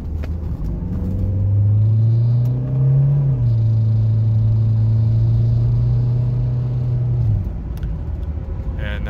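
A 1987 Chrysler LeBaron Turbo Coupe engine drones loudly from inside the car, rising in pitch as it accelerates, dipping briefly at a shift, then holding a steady pull before easing off.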